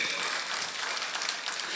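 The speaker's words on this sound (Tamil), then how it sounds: "நான் சொல்ல சொல்ல அந்த வலி சுமந்து நீங்கள் கைத்தட்டுகிறீர்கள்" An audience claps at a Tamil poetry event, a dense, steady wash of many hands held evenly throughout at moderate distance with no voices on top.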